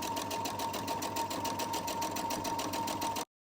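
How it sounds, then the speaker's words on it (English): A sewing machine stitching through eight layers of fabric with a heavy-duty leather needle, a loud steady rapid chatter of needle strokes that stops abruptly near the end. "It's stitching over like 8 layers of fabric"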